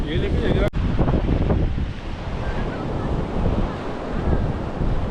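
Sea waves roll and wash steadily at Betul beach in Goa, where a river meets the sea, a broad continuous surf roar mixed with gusting wind on the microphone.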